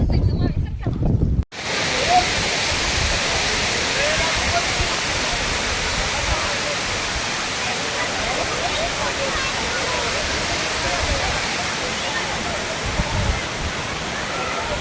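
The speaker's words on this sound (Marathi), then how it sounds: "हा जो पाठीमागे जो तुम्ही धबधबा बघताय हा वजराई धबधबा आहे." Vajrai waterfall in Maharashtra, near Kas lake, roars in a loud, steady broadband rush that fills the whole stretch after a brief quieter opening, with no talk over it.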